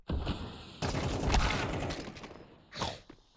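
Gunfire from a Counter-Strike match on the Inferno map during an ESL Challenger League game, with a loud burst of shots, a second heavier volley around the middle and a short final blast, no talk.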